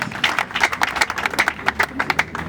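Mourners at a funeral stand and applaud together, a steady round of hand claps with rhythmic peaks running throughout, close and fairly loud, with a few voices mixed in.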